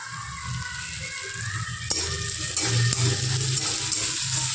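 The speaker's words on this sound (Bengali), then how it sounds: "এবার এর মধ্যে দিয়ে দেবো কেটে রাখা টমেটো কুচি আর চেরা কাঁচা লঙ্কাটা" Chopped tomato and slit green chilli land in hot oil over lightly sautéed onion for a rohu cashew mustard curry, giving a close, steady sizzle that grows louder and busier partway through.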